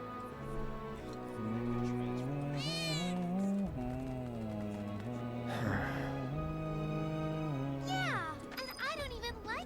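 Cats meow repeatedly in the Final Fantasy VII Remake cat house in Wutai, several rising and falling cries close up over a sustained musical background and in-game voices.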